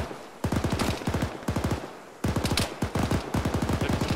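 Automatic weapons fire in the Arma military video game, with repeated loud bursts of rapid shots in close succession, several volleys spread across the clip with no talking.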